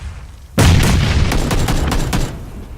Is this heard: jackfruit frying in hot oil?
no